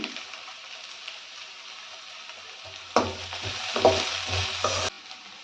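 Chopped garlic and lengthwise-cut ginger frying in a hot pan: a steady sizzle that bursts louder and busier for about two seconds as the pieces hit the oil and are stirred, with low scraping bumps, then settles back.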